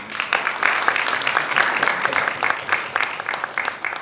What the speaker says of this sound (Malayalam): ഈ ട്രെയിലറിന് ഈ സിനിമയ്ക്ക് ഒരു അസാധ്യ കൈയടി കൊടുക്കാതെ പറ്റില്ല